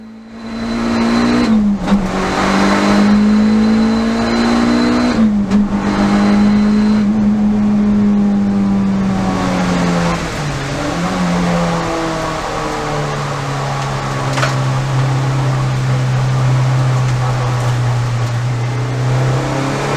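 A car is driven on a wet Donington Park track, its engine droning loud and close from the cabin, rising and falling through shifts and easing off in long steady stretches.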